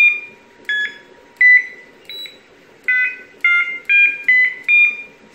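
Smoke detector sounding a series of short electronic alarm beeps, each tone steady and clear, cycling through different pitches with brief gaps between, close and loud over a faint low hum, no voices.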